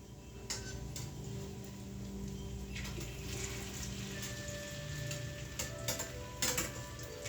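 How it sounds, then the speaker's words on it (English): Salted fish cakes frying in a pan give a steady close sizzle, with a few light clicks and scrapes as they are turned over; there is no talk. "I'm gonna turn those fish cakes around now"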